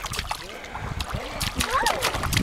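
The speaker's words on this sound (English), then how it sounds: "She's splashing her face." Water splashing at a lake as a child splashes her face, irregular sloshes and splatters close by, mixed with voices talking and exclaiming.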